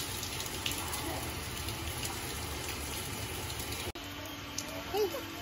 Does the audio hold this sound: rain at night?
yes